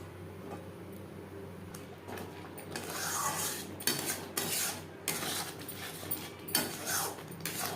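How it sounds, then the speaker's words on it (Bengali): Masala for a vegetarian potol paneer curry stirred in a pan over a medium flame, the spoon scraping and knocking against the metal in irregular, fairly quiet strokes, with a low steady hum beneath. "অবশ্যই নাড়াচাড়া করে দিতে হবে"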